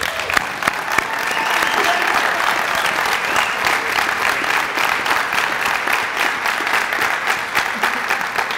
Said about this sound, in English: So I just want to give them another round of applause.